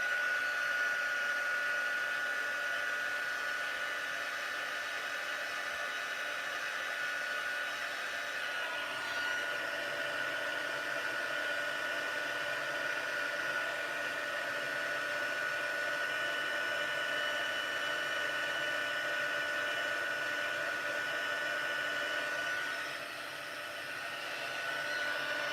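A heat tool blows hot air steadily over Meadow die cuts, a continuous close whirring hiss that runs without a break and dips briefly near the end.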